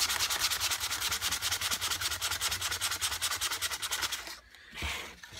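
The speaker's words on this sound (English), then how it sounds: "And when you do wet sanding, you do get a much smoother finish than just leaving it with dry." Wet sanding of a metal kunai blade: steady, rhythmic back-and-forth rasping strokes, close and loud, run for about four seconds, then pause briefly before a softer stroke or two resumes.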